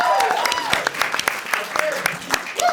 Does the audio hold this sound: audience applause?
yes